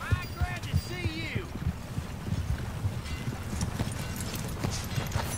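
Horse hooves clip-clop in the Red Dead Redemption 2 game, steady and fairly close, under ambient game sounds, with bird-like chirps near the start.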